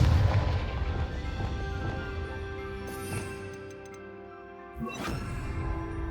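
Confringo fire spell in the Hogwarts Legacy video game: a booming blast at the start fades under a layered game score, followed by further bright bursts and whooshes about halfway and near the end.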